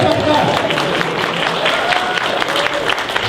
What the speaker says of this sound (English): Yeah, y'all go ahead, clap, go ahead, clap.